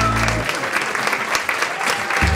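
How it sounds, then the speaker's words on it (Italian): An audience at a school event claps for the class cook, giving a burst of close, lively applause with a brief murmur of voices at the start. "Martina, un applauso a Martina"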